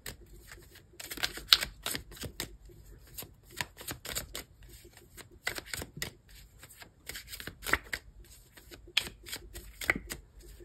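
Tarot cards shuffled repeatedly by hand, giving irregular bursts of crisp riffling and flicking with short pauses between them, close and fairly quiet.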